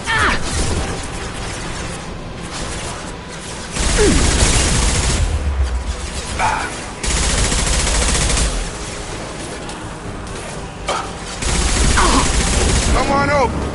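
Gunfire in Mass Effect 2 comes in loud, repeated bursts of rapid shots separated by quieter gaps, with combat voices heard intermittently.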